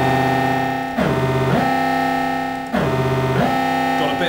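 A loud, buzzy electronic synth tone from a cheap keytar driven by an Arduino holds steady, then glides down and back up in pitch twice with portamento, sliding smoothly between notes.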